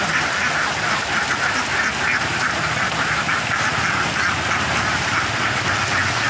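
A flock of about 300 egg-laying ducks quacks loudly and continuously, a dense overlapping chorus close by as they are brought home from bathing in a river at around six in the evening.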